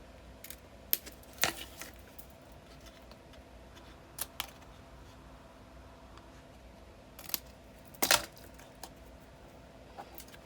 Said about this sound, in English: So I'm just going to cut the last two corners of this out really quick.